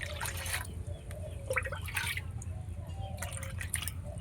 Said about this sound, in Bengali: এবার এখানে আরেকটা পাত্র নিয়ে নিলাম। এর মধ্যে এখন আমি জল নিয়ে নেব।